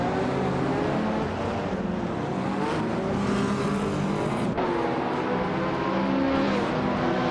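Race cars in a video game roaring off the starting grid, including a 1986 BMW M3, a continuous loud engine drone with shifting revs and a couple of sharp gear-change cuts, no voices.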